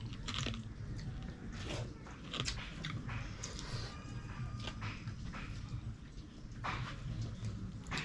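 Crispy fried fresh seafood being bitten and chewed, with repeated sharp crunches and softer chewing sounds close to the microphone over a low background hum.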